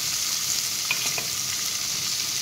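Onions sizzling in hot oil in a pan while fish curry is cooked, a steady bright frying hiss with a few small pops and crackles, close and continuous, no voices.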